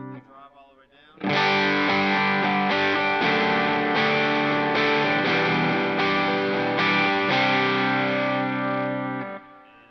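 Electric guitar played through a dual overdrive pedal with the drive turned fully down and the highs raised slightly, a loud run of sustained strummed chords with repeated attacks, after a brief lead-in of faint speech.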